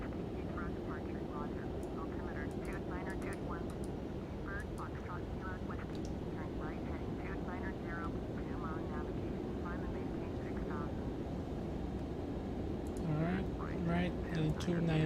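Concorde jet engines roaring in flight in Microsoft Flight Simulator X, a steady, loud broadband rumble throughout with someone talking over it.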